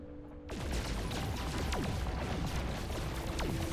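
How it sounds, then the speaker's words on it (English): Photon cannon shots in the space game No Man's Sky, a rapid series of loud crackling blasts with descending zaps, firing continuously after a quiet start. "photon cannon is definitely a lot better at taking down these things than the phase beam"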